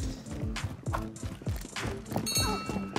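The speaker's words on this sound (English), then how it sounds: "They're here. I hear footsteps." Footsteps of enemy players in the video game Call of Duty: Warzone, a run of heavy, evenly spaced thudding steps close by, with no talk over them.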